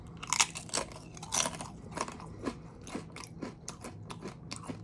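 Close, crisp crunching of salted tortilla chips being chewed, a series of irregular sharp crunches with brief pauses between bites.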